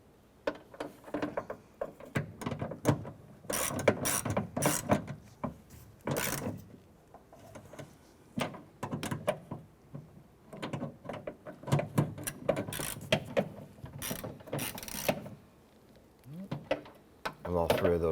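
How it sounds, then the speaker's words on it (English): Bolts being tightened on the exterior front door handle of a 2006-2013 Chevrolet Impala, heard as close, irregular metallic clicks and ratcheting taps in short bursts, with a few quieter gaps between them. "we'll go back and tighten down the other two a little bit tighter"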